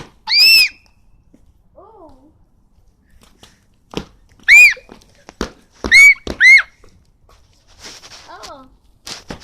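A woman screams in short, sharp bursts outdoors, loud and close, with several cries spaced over a few seconds and quieter shuffling and voices between them.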